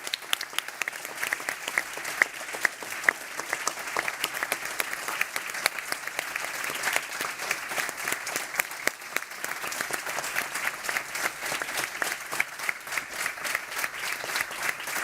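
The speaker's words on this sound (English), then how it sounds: "Ladies and gentlemen, just a round of applause for that 12-year tenure." A conference audience applauds for a long stretch, dense continuous clapping from many hands at an even level throughout, with no voices heard over it.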